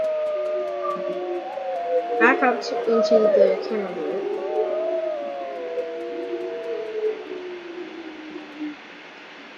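A wolf puppy howls in the video game WolfQuest, a wavering, rising and falling cry that lingers mid-distance while a person talks over part of it.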